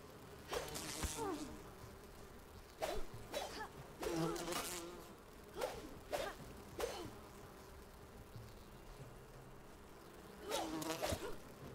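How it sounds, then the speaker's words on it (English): Bees buzz in the survival video game Enshrouded, a swarm of insect drones swelling in repeated bursts over a steady low hum, loud and close, with no talk. "God, it's the bees."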